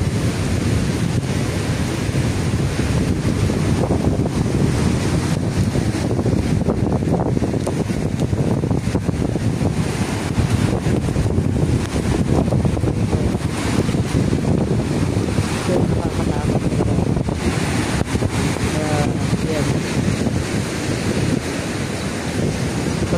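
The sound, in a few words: storm on a beach with heavy rough ocean waves and wind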